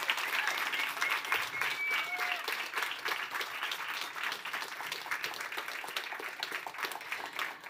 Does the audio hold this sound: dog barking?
no